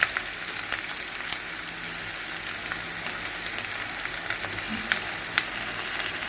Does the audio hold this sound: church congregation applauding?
no